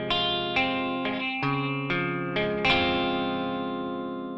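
Electric guitar run through effects picks the chords of the bridge section of a song, with about seven ringing chord attacks in steady succession, each left to sustain and decay, alone with no voice.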